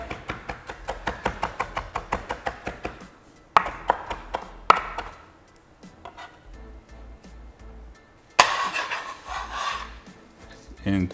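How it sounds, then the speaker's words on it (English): Knife mincing fresh dill on a wooden cutting board: a quick run of evenly spaced chops at first, then scattered heavier cuts and a scraping rasp near the end, up close with no talk. "I'm just gonna run your knife through it."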